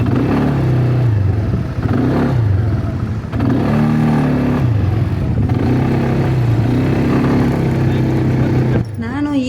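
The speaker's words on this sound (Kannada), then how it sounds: "ನಾನು ಈ ದುಬೈಗೆ ಬಂದು ಈ ಮರಳುಗಾಡಲ್ಲಿ ಗಾಡಿ ಓಡಿಸ್ತೀನಿ ಅಂತ ನೆನೆಸಿರಲಿಲ್ಲ" A vehicle engine revs and labours while driving over desert sand dunes in Dubai, loud and close, rising and falling in repeated surges with mechanical whir and clatter, and a person talks over it.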